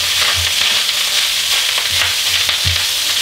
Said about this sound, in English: big wok allows me to fry quite a lot of rice at one time